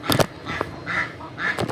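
Ducks quack in short, loud bursts as Pip chases them around a garden yard near goats. The calls come in scattered bunches, close by.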